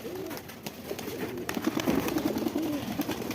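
A young pigeon chick and other pigeons coo in low, rolling, repeated calls, close by, over a soft background hum that grows slightly busier toward the end.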